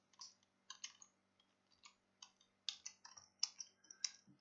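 Buttons on a Garmin 530W aviation GPS unit are pressed in a quick series of small, crisp clicks, about a dozen irregularly spaced presses close up in a quiet room.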